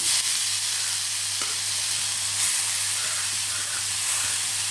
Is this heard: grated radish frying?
yes